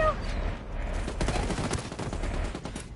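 Dense gunfire from the Ghost War video game mode rattles steadily for three seconds, a busy loud stream of overlapping shots with no clear pauses.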